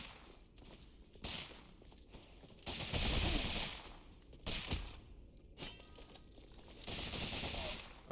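Rapid bursts of gunfire from an archer firing in midair in the video game Rogue Legacy 2, dense crackling volleys that come in repeated waves between short quieter gaps.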